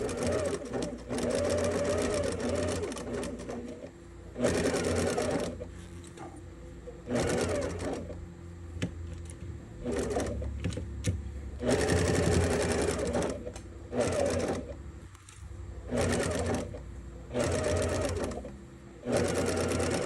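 A sewing machine stitches a fabric Easter egg in repeated close bursts of rapid mechanical chatter, separated by short pauses and light handling noise.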